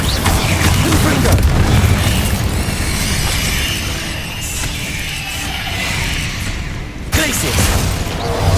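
Confringo fire blast spell in Hogwarts Legacy combat, a loud booming burst followed by rumbling crashes and debris under game sounds, with a further sharp impact near the end and speech mixed in.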